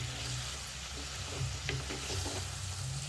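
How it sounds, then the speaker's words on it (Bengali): A paste of mustard, poppy seed and green chilli is stirred in a hot pan, a constant sizzle with a low hum underneath and soft scraping strokes of the spoon, heard up close without speech. "এবার সর্ষে, পোস্ত, কাঁচা লঙ্কার পেস্টটা দিয়ে দিচ্ছি। এই দেখুন, একটু নাড়াচাড়া করে নিচ্ছি।"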